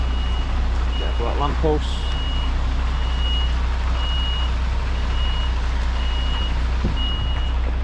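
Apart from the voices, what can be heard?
HGV truck reversing with reversing beeps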